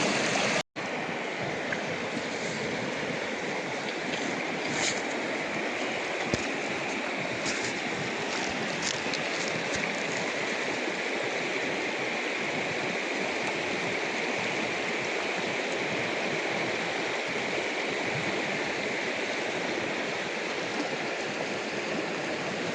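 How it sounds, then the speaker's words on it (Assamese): A river current flows steadily at a broken-bridge spot, giving a continuous broadband rushing wash that stays loud and even throughout, broken only by a brief sharp knock near the start. "দেখিছেনে নদীৰ সোঁতটো কিমান বলি আছে"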